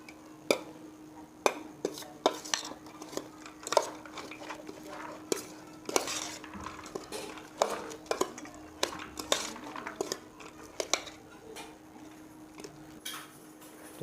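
A spoon stirs and mixes chana chaat in a metal pot, producing steady, close clinks and scrapes in an irregular rhythm with no talking.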